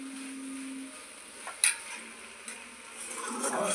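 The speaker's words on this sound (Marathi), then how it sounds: "आपण हलवत आहे शेजवान चटणी" A spoon stirs Schezwan chutney in a pan, making quiet scraping and occasional light clinks against the metal over a soft background hiss, with a slightly louder clatter near the end.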